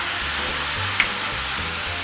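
A steady, hissing sizzle of water hitting a hot frying pan, close and continuous, with a faint clink partway through.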